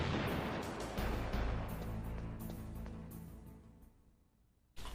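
A big booming explosion in the Metal Gear Solid video game on PlayStation, a loud sustained roar with crackling bursts that slowly fades out before a sudden low thump at the very end.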